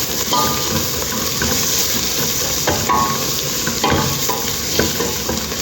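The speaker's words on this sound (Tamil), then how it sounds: "மல்லி இலை போட்டு நல்லா கலக்குவோம்" A mutton biryani mixture with coriander and mint leaves is stirred in a pot. Loud, steady sizzling and hissing steam run under repeated scraping strokes of a ladle, with no talking.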